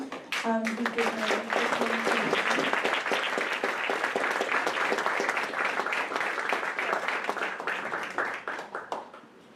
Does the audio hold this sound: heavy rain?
no